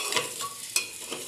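Marinated meat for a dry fry sizzles in a hot pan while a utensil stirs it in several quick scraping strokes, close and lively, with no talking.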